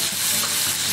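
Dry spices hitting hot oil with a splash of water for a raw banana vegetarian curry, a brief, close, loud sizzle and spatter.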